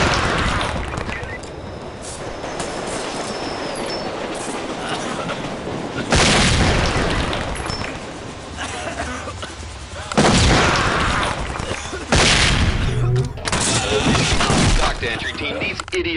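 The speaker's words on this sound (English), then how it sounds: "Idiots are shooting each other" Player gunfire in the tactical shooter SWAT 4, a multiplayer match with players shooting each other, heard as several loud sharp bursts and shots over a steady background rumble.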